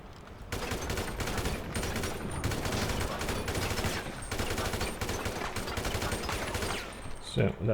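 Weapons fire in Grand Theft Auto as dense, continuous gunfire with rapid overlapping shots and short pauses, loud and close through most of the stretch.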